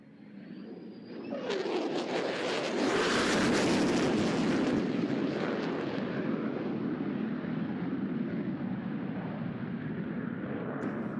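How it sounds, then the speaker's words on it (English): An F-35C Lightning II jet makes a high-speed pass at the Oceana air show. A roar swells quickly to a loud, broad rush, then holds as a steady rumbling wash that slowly fades. "that was Lieutenant Brian Willie Galanka, nice enough to give us a high-speed sneak pass before joining up with Lieutenant Commander Calvi to come in for the section carrier break"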